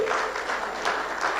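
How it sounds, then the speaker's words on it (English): Audience applause at a health training institutions dialogue event, continuous dense clapping from many people, moderately loud and steady with no speech over it. "Let's put our hands together for Jason Wright. And don't stop clapping until I tell you so."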